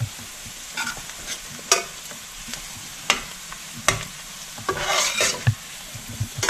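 Masala gravy with onions, ginger and garlic simmering in a pan under a low continuous sizzle, broken by several sharp scrapes and clinks of a utensil stirring against the pan, close up with no talking.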